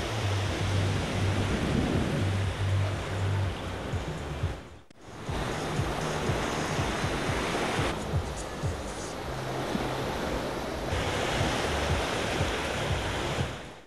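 Surf washes onto a crowded public beach at the 10th station of Velykyi Fontan in Odesa, a steady, loud roar of breaking waves that briefly cuts out midway and then resumes, with no voices over it.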